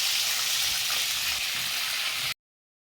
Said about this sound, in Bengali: এখন আমি এখন লাড়া দিয়ে দিচ্ছি পেঁয়াজটাকে লাড়া দিয়ে দিচ্ছি